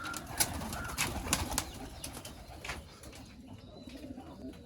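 Pigeons coo in low soft repeated calls close by, with occasional wing flutters, the cooing strongest early and fading toward the end, with no one talking.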